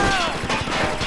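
Rapid gunfire in the video game SOCOM 4, fired from the hip: a dense, close burst of shots over about a second, with a voice running underneath.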